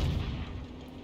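A 152mm artillery shell from an S-51 self-propelled gun lands in a video game with a single low, heavy boom that rumbles and fades over about a second.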